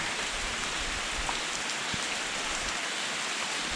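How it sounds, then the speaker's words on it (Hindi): Heavy rain pours down in a dense, steady hiss of drops striking surfaces, loud and continuous, with no voices. "तेज हो गई बारिश।"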